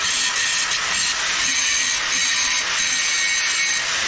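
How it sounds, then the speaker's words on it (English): An angle grinder working steel on a Ford Econoline bumper build, a continuous loud high-pitched whine and grind held steady without a break. "We use a grinder first to knock down all the heavy imperfections"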